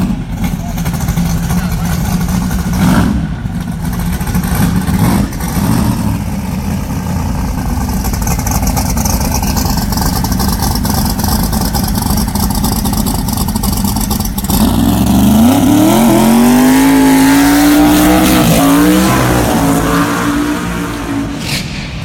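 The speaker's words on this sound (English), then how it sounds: "Get up in front of these cars and watch them launch towards us" Drag racing cars at Sydney Dragway during Jamboree testing roar loudly throughout, with a car revving up and launching hard toward the listener near the end, while a person talks over the engine noise.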